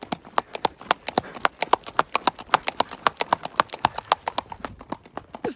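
A saddle horse walking with a smooth gait, crisp evenly spaced hoofbeats ringing close and clear in a steady quick rhythm, with no other sound competing.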